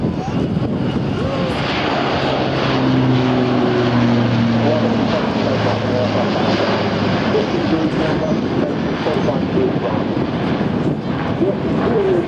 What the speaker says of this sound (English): Rolling now, the Airbus A400M, known to the Royal Air Force as the Atlas.